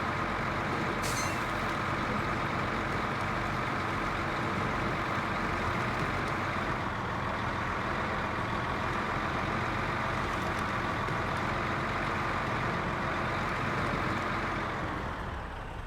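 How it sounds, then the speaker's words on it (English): A large truck on monster 58-inch tires fitted with chains rumbles steadily, its engine drone and road noise loud and close throughout, with a brief hiss near the start. "This thing has monster 58-inch tires on it with chains."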